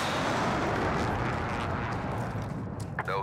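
Call of Duty Warzone airstrike: a heavy, continuous rumbling roar of explosions, loud and close, fading slightly near the end as a faint whine appears, with a voice speaking over part of it.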